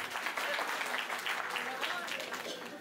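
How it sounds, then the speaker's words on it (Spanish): An audience at an education talk applauds for a teacher, a moderately loud, continuous spread of clapping with voices mixed in. "¡Un aplauso a la maestra, por favor!"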